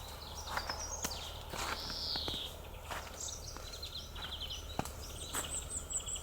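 Birds singing and chirping along a riverbank on a mild misty day, several scattered calls and brief trills near and far over a soft outdoor hush, with occasional light footsteps.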